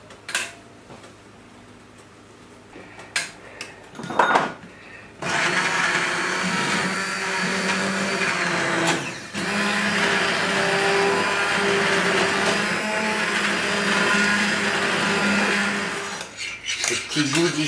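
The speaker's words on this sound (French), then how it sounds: "Nous allons mixer notre crème d'ail au curcuma." A blender whirs loudly and steadily for about eleven seconds as it purées a garlic and turmeric cream, with brief clinks and handling noises before it starts and after it stops.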